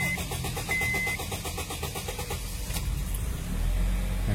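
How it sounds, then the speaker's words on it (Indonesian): A second-generation Honda CR-V 2400cc automatic running on gas fuel cranks with a long, steady rhythmic whirr of the starter, close and loud, before the engine note rises and catches near the end. "Starternya panjang karena bahan bakarnya double."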